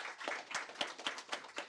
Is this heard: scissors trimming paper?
no